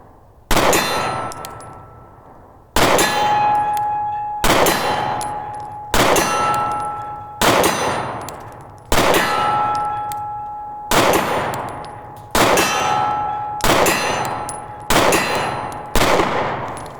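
A SIG P365 XL pistol with grip extension and iron sights fires about ten spaced shots, each sharp report followed by a ringing clang from steel targets that decays before the next shot.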